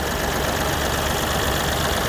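A 2015 Mahindra TUV300 T8 diesel engine idling, a steady, even hum that holds constant from start to finish with no voices.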